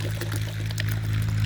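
Water pours steadily and close into a tub, filling it for a cow-dung fertilizer drench for brinjal plants. It makes a continuous splashing gush with no one talking.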